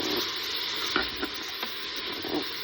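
Frozen minced butcher's beef frying in a Cookeo multicooker: a dense, even hiss of sizzling fat with a few soft spoon scrapes, close but fairly quiet, no talking.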